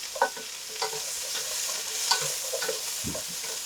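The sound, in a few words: tofu frying and stirred with wooden paddles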